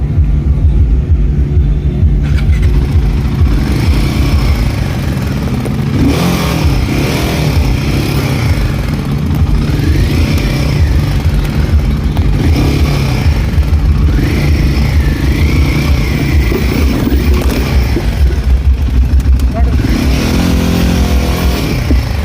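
Royal Enfield Himalayan motorcycle engine running steadily while ridden off-road, a continuous loud mid-pitched drone with occasional surges in revs throughout, no talking.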